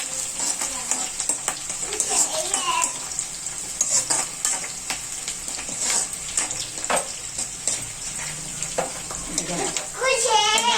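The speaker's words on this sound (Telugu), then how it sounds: "ఎల్లుల్లిపాయలు కచ్చపక్క దంచి వేస్తున్నానండి" Coarsely crushed garlic hits a hot pan for okra curry and fries with a steady loud sizzle, while a spoon scrapes and stirs in irregular strokes and a voice speaks intermittently over it.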